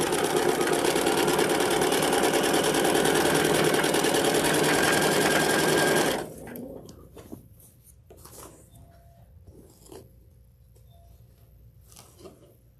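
Sewing machine running at steady speed, stitching along a row of quilt fabric with the needle-down setting, loud and continuous for about six seconds, then stopping into near-silence with a few faint clicks and handling sounds.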